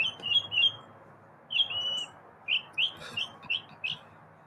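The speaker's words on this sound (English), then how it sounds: "Gotta listen to the bird." A pet bird chirps indoors, giving bright, high chirps and tweets in short bursts, two early then a run of five or six spaced calls, near and moderately loud over quiet background hiss.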